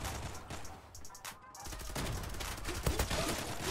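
A Glock 18 pistol fires full-auto in the online shooter game Zula, with dense, rapid bursts of gunfire continuing throughout, briefly dipping before resuming loudly.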